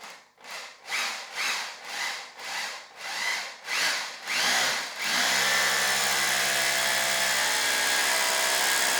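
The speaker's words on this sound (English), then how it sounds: "I'm using a hammer drill, and the point of this is while it's turning, it also hammers" A hammer drill bores into cement in a rapid pulsing rhythm, about eight surges in the first five seconds, then runs at a continuous, loud, steady grind until the end.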